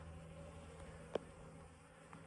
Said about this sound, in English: Thirsty bees. Bees need water in the desert.